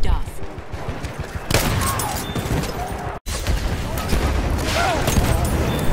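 Gunfire in the Battlefield 1 video game, with a shotgun used like a sniper: dense, loud bursts of shots and crashes over a busy battlefield din, a brief cut to silence midway, with voices talking underneath.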